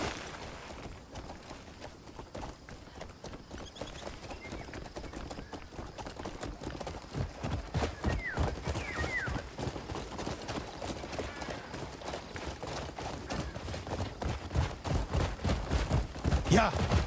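Horse hooves clip-clop steadily as a rider travels in the fantasy game Black Desert, a continuous rhythmic trot that grows louder and busier toward the end, with game ambience and occasional speech around it.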